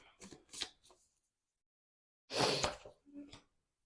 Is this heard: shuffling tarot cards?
yes